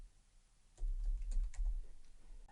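Someone types on a computer keyboard nearby, a quick run of soft key clicks starting after a short quiet spell and continuing steadily over low room hum.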